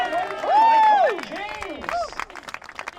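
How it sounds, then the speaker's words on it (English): Spectators at a lumberjack relay at the Royal Highland Show cheering and whooping, with loud rising and falling shouts and whistle-like cries over a busy crowd murmur and scattered clapping. "the crowd are getting really behind everyone"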